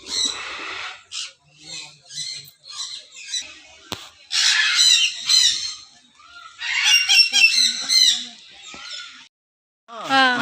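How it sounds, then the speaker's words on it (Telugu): Red lory parrots give loud, harsh squawks and shrieks in bursts, some close and some overlapping, with short gaps between calls. "రెడ్ కలర్లో ఉన్నాయి ఈ చిలుకలు"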